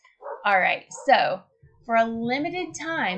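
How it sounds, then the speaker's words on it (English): Dogs bark and yip repeatedly in the background, several sharp bursts mixed in with a person talking close to the microphone. "Sorry if you hear the dogs in the background."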